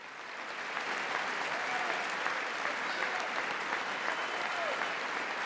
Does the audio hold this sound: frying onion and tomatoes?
no